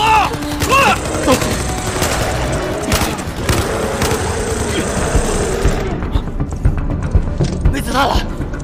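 Gunfire rings out in a giant-spider monster action film, with repeated sharp shots and bursts over a noisy roar, loud and close, and voices shouting between them.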